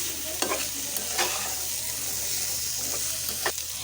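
Cauliflower and chicken pieces sizzle steadily in a hot frying pan while a utensil stirs them, sending a few distinct scraping clatters over the constant close, hissing fry.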